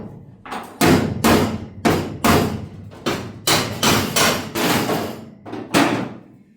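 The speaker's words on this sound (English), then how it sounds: "This crowbar thing hooking under the dash, hit it from the back." Steel crowbar hooked under the dash of an HQ GTS coupe being struck repeatedly from behind with a hammer, about ten loud, close metallic blows in an uneven rhythm with no talking.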